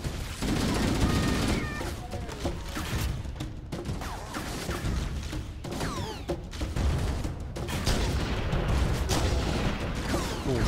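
Sustained, rapid volleys of gunfire in the shooter Halo Combat Evolved Anniversary, loud bursts stacked over one another with mechanical clatter and whizzing effects throughout the battle.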